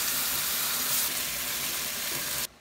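Tofu goes into a pot of salty soybean bean paste sauce with scallion and ginger, giving a steady, loud hiss of sizzling that holds for over two seconds and then cuts off abruptly.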